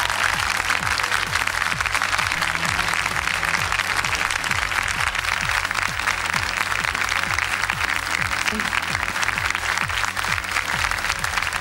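Sustained, dense audience applause fills a gala concert hall on a televised singing show, loud and steady throughout with no break.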